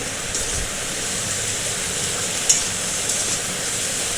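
Okra and eggplant chorchori frying in a pan with salt and turmeric while being stirred: a steady, even sizzling hiss throughout, with one or two faint utensil clicks and no talking.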